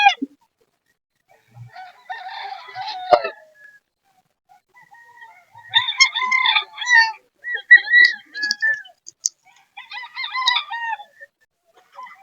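Chickens and roosters at a poultry market in Bocaue, Bulacan, crowing and clucking in several separate bursts with quiet gaps between, fairly close and clear.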